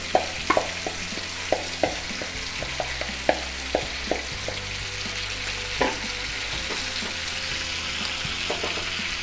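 Lemon pepper chicken with leftover marinade masala fries in a pan, a steady close sizzle broken by frequent sharp clinks and scrapes of a stirring utensil.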